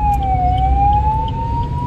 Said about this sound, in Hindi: यार एम्बुलेंस जा रही है,